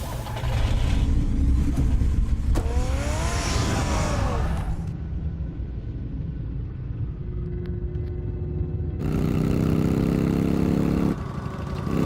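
A car engine rumbles and revs in the Batman Telltale video game, a loud low drone with a rising rev early on, easing down and then surging again near the end, with no speech over it.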